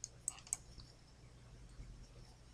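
A few crisp, faint computer mouse clicks snap at the start over a quiet background hum, as a search button is pressed.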